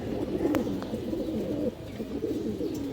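Low, rolling coos come from a large female pigeon, a working breeding hen, heard up close and steady throughout, with a couple of brief sharp clicks in the background and no speech.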